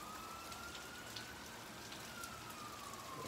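A faint ambulance siren wails in the distance, its tone rising and falling slowly as a steady drizzle of rain patters close by.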